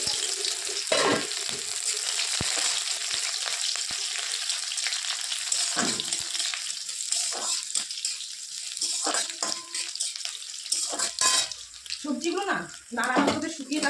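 Chopped onions dropped into a hot pan with bay leaves and dried red chillies, giving a steady bright sizzle that runs throughout, while someone talks over the crackling cooking.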